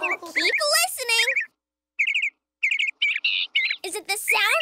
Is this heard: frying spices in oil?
no